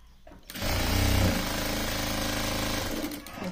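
Close electric sewing machine stitching a folded lehenga neckline: a loud, steady mechanical whir starts abruptly after a brief quiet moment, runs evenly for about three seconds, then cuts off.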